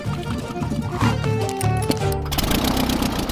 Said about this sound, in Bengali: এর আওয়াজটা লন মোভার ইঞ্জিনের মতো কেন?